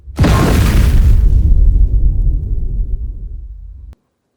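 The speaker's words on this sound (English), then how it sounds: "that's how I did the explosion" A layered video-game explosion from Dead Island 2: one loud, sharp blast that rolls into a long, deep rumble, fades over about four seconds, then cuts to silence.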